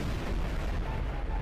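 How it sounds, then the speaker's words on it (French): Explosions in the Garry's Mod sandbox game, with a dense, continuous rumbling barrage of blasts, loud and close throughout the brief moment. "Attention Lucas, ça a explosé toute la map là!"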